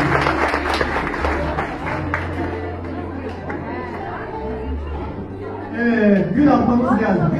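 Guests at an engagement party clap and cheer while people chatter and laugh, the applause spread through a lively crowd with talk continuing over it and swelling near the end.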